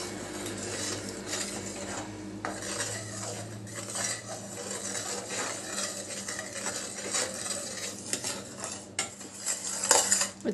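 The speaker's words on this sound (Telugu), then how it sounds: "పాకం మరుగుతుంది." Jaggery syrup made with water is stirred in a pan, with a metal spoon clinking and scraping against the pan almost continuously, close and moderately loud, with no talking.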